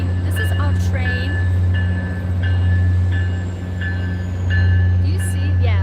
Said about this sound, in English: This is our commuter rail in Boston. MBTA commuter rail.